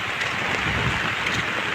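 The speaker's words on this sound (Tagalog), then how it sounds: "Malakas talaga ang ulan." Heavy typhoon rain pours down steadily in a residential area of Cavite, a dense, even hiss of close downpour with no pauses.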